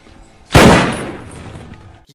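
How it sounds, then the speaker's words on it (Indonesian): A single loud gunshot from a film as a policeman shoots a driver in the head, one sharp close blast followed by a long decaying reverberant tail over roughly a second and a half. "si polisi pun menembak kepala si driver tepat di bekas luka tembakannya dulu"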